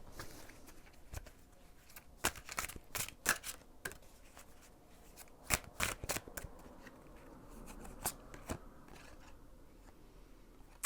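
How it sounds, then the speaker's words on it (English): Playing cards being shuffled and drawn from a tarot-style deck indoors, a series of crisp, sharp riffling snaps and flicks in irregular bursts, close and fairly quiet, with no talking. "let me just actually get a card out"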